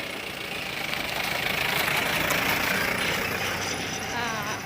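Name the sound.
vehicle engine running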